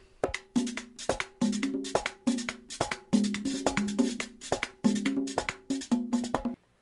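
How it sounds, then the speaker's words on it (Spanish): Brisk merengue a lo maco groove with drum strokes and a bright scraper, phrased in a choppier, syncopated pattern with short breaks between repeated bursts. "El segundo que encontramos es el, merengue a lo maco, que suena así."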